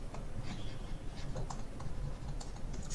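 Computer keyboard clattering as an SQL query is typed, irregular quick keystrokes in short bursts, close and moderately loud with a low room hum underneath.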